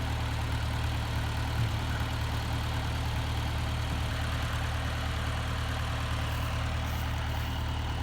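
A tractor engine idles steadily on a cattle farm during winter hay-bale feeding: a continuous low, rumbling drone at constant level, with no voices over it.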